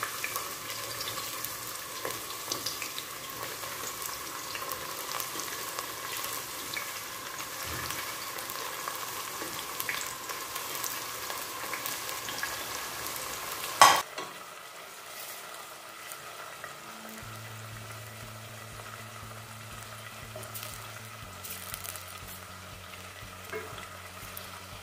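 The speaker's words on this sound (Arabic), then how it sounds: "نضيف كعبة تاع اللحم مفروم تاعنا، بسم الله، باش نخليهم شوية في الزيت" Minced meat balls sizzle in hot oil in a pan with onion, a steady crackling fry that grows quieter partway through, leaving a softer simmer with a low hum behind it.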